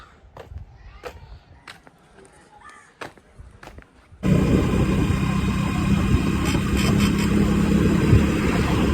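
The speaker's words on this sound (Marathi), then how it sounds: "इकडनं निघूया आपली बाईक इकडे ॲव्हेंजर" A Bajaj Avenger motorcycle engine starts abruptly after a quiet stretch of scattered outdoor noises, then runs loud and steady close by, its broadband roar continuing to the end.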